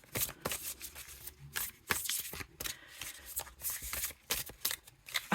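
Oracle cards being shuffled overhand, giving a close run of crisp, papery riffling slaps and flutters in uneven bursts, with no talking.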